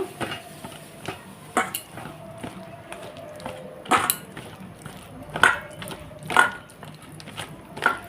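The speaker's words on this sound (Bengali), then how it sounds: "অল্প অল্প জল দিয়ে এটাকে ভালোভাবে এখন ফেটিয়ে নেবো" Cauliflower pakora batter being whisked with a little water, heard as a run of scattered clinks and scrapes against the bowl at an uneven rhythm, close and fairly faint, with no talk.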